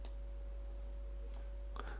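Mouse clicks made while building a Joomla website, one near the start and a few more close together toward the end, light and dry over a steady computer hum.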